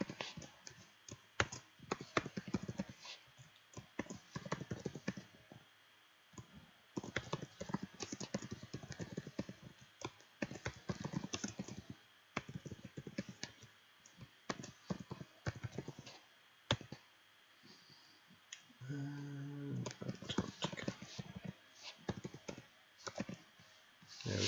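Steady typing on a computer keyboard while entering continent names into a database table, with rapid clattering keystrokes in bursts separated by short pauses across the whole stretch.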